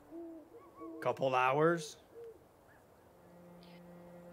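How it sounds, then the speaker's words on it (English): Owls hoot softly in the background, with several short tonal calls at the start and a longer low hoot later, while a person speaks briefly over them. "While we hear owls."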